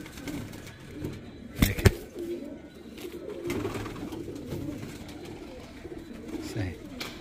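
Pigeons brought from Karachi coo softly in short, scattered calls, with a few sharp knocks or wing flaps near the start, while someone talks over them in the background.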